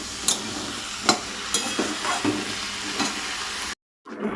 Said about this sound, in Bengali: একটু ভাজতে দিয়েছি আলু পটলটা